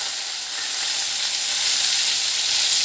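Onion and green chili paste frying in hot oil with curry leaves, a steady, loud, close hiss and sizzle that swells slightly and holds throughout with no talking.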